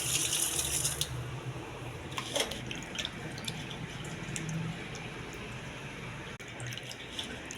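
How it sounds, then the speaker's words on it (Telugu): Tap water runs into a sink as grapes are washed by hand, a steady close splashing flow with occasional drips and light handling noises throughout, no voices. "ట్యాప్ వాటర్ వేసుకుని శుభ్రం కడిగి"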